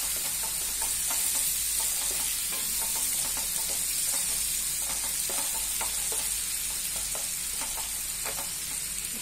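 Chopped onion and tomato sizzle in hot oil, a steady bright frying hiss broken by frequent small pops and crackles, close and continuous with no talk.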